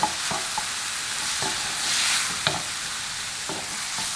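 Prawns stirred fast in a hot pan over high heat, a continuous sizzle broken by sharp scraping and clattering strokes of the utensil at irregular intervals.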